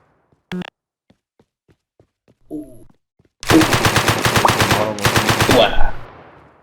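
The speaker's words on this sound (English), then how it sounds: "You have a AK looking gun." An AK-style rifle in the video game S&box fires a loud, rapid automatic burst, then a second burst after a short break, with echoing decay. A few faint clicks and taps come before the shots.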